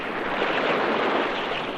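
Broad, rushing noise of surf washing steadily, like waves breaking on a shore, with a windy edge and no voices.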